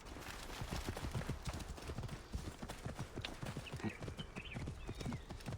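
A horse gallops in Assassin's Creed Origins, its hooves pounding in a quick, steady clip-clop rhythm throughout, fairly quiet and with no talk over it.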